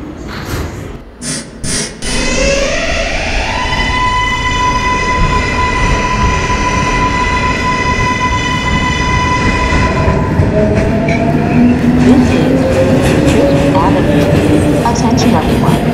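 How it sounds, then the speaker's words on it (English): A Queens-bound 7 local on the New York subway runs loud and close, its steady rumble carrying a rising motor whine while clattering wheels and rail noise build toward the end. "This is a Queens-bound 7 local train."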